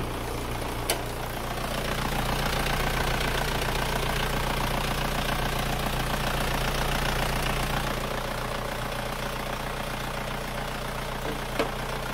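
An Isuzu Panther diesel engine with a compression leak idles on a cold morning just after starting, a steady close rumble with a rhythmic diesel knock and no talking.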